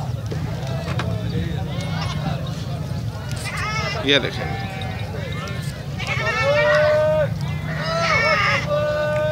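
Goats bleating repeatedly amid the crowd at Shahpur Kanjra livestock market in Lahore, including a crossbreed buck, with someone talking over the calls and a steady low hum of market noise.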